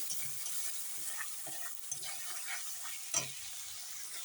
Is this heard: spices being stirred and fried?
yes